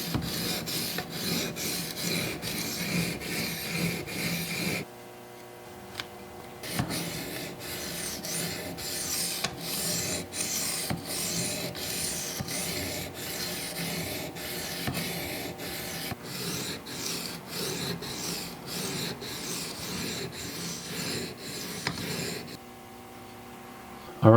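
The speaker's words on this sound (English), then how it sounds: "4 or 5 passes on each side of the blade with the 250 grit matrix stone" A Benchmade Griptilian knife blade is drawn across a 250 grit diamond matrix stone. The rasping scrape comes close and repeats in steady light strokes, with a short pause near five seconds.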